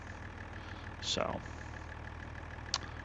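A tractor engine idling in a farming video game, a low, steady mechanical hum running throughout, with someone briefly speaking and a couple of short sharp clicks over it.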